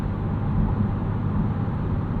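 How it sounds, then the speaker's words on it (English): Inside a 2025 Honda Civic Si on the road, a steady low tire-and-road rumble fills the cabin at a constant level, with no talking. "The other big concern here is definitely going to be road noise."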